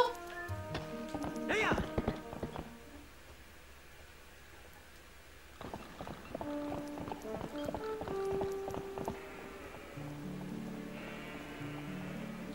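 Rhythmic hoofbeats of a galloping horse in The Legend of Zelda: Twilight Princess come in bursts alongside game music and ambient tones, with a pause in the middle.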